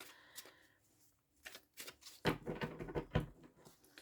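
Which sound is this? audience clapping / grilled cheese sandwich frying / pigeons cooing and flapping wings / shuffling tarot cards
shuffling tarot cards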